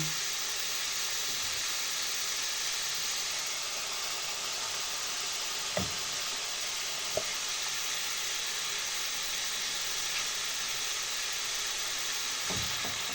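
Chopped onion sizzles in a hot pan for a sauce, a steady broad hiss of frying with a few soft clicks of stirring.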